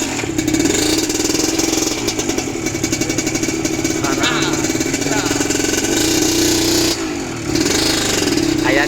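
A motorcycle engine revs under throttle on a rough off-road trail, a steady loud mid-pitched drone with repeated rises in pitch and a brief dip near the end, while people talk over it.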